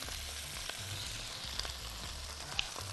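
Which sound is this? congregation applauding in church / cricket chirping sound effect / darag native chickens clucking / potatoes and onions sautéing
potatoes and onions sautéing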